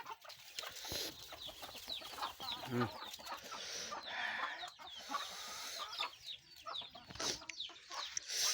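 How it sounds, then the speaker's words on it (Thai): Chickens clucking and squabbling at a rural Thai home, a continuous, fairly faint mix of clucks, sharp calls and scuffling, with ambient outdoor noise throughout. "โอ้ ไก่พี่น้องวนซมันฮันตีกันก็มีฮะ"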